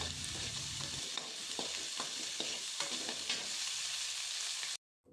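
Ginger garlic paste fries in hot oil with a steady, bright sizzle, while a utensil taps and scrapes the pan several times before a sudden cutoff.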